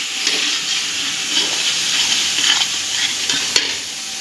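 Tomato, ginger and green chili paste sizzles and hisses in a pan for a Bengali fish curry, with a steady bright frying sound and occasional stirring scrapes up close.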